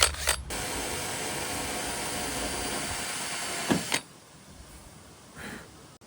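A drill bit boring into a spot weld on a car body gives a steady, fairly loud motorized whine for about four seconds, ending in a sharp stop, followed by quiet with a faint brief sound afterward.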